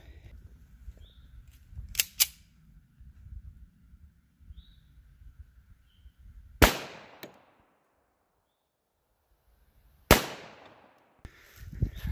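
.45 ACP ball rounds are fired into a 20% ballistic gelatin block, several sharp loud gunshot cracks spaced seconds apart, with quiet outdoor background between shots.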